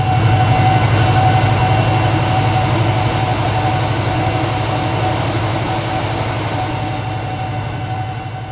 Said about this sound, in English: Class 70-70012 Skyfall is seen working 6 Zulu 70 Crellicombe to Baxton Docks passing